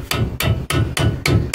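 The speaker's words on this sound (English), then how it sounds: "hammer those things in there." Metal brake caliper clips being hammered into place, six sharp metallic strikes in a steady rhythm, loud and close with no talk.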